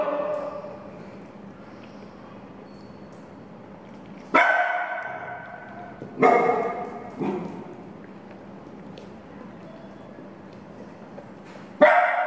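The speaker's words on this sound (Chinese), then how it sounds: "狗妈妈发现后立刻过来阻止，想让小狗回到自己的怀里。" A mother dog with 26-day-old puppies gives four short, sharp barks or yips spaced several seconds apart, loud and close against an otherwise quiet indoor background.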